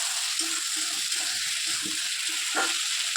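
Food that had been cooking covered is stirred in a pan, with a steady sizzle under a run of soft, rhythmic scraping strokes and a louder scrape near the end, with no voices.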